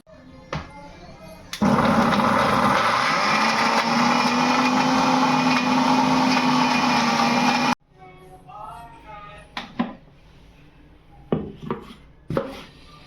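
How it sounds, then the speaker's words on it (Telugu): A mixer grinder whirs loudly and steadily for about six seconds as it blends chicken, then cuts off, leaving scattered clinks and handling noises. "ఇది టోటల్గా మిక్సీకి వేసుకోవాలి దీన్ని"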